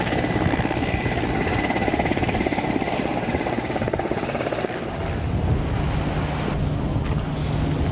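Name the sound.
army helicopter in flight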